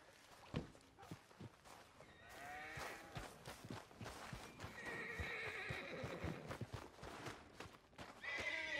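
Horses in the video game Red Dead Redemption 2 neigh and whinny several times over clip-clopping hooves and bleating sheep, heard nearby and fairly clear, with little talk.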